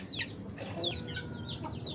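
A red rooster, brother of a black rooster in the same farmyard, clucks in short, close chirping calls over a steady low background rumble, with no talking.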